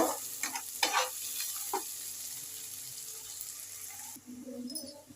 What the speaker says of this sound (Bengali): এখানে আমি তেল গরম করে পেঁয়াজটা ছেড়ে দিয়েছি